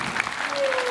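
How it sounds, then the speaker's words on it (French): A brief burst of audience applause at a French motivational event, a diffuse patter of many hands with a faint tone and some voices mixed in underneath. "On applaudit encore!"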